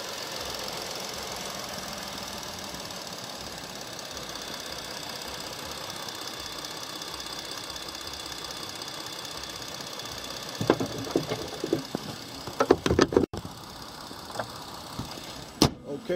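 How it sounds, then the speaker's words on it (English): A 2016 Ford Explorer engine idles steadily at a moderate distance, a constant even hum throughout, with a few louder clicks and knocks near the end. "I'm going to be quiet momentarily so you can hear the engine"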